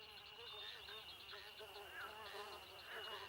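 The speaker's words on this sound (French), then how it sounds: "Ah, un moustique." A mosquito's thin, steady high-pitched whine hums continuously, with voices talking over it throughout.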